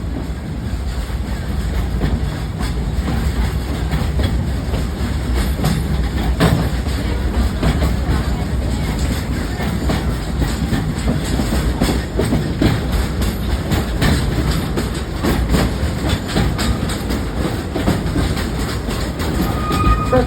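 Loud, continuous rumble of a train riding the tracks, with the rhythmic clickety-clack of wheels and occasional metallic squeals.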